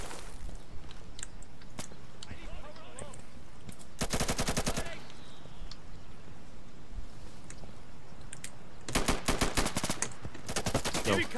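Gunfire in the tactical shooter game Insurgency, scattered single shots and clicks across a dense battle backdrop, with two loud rapid automatic bursts standing out, one early and one near the end.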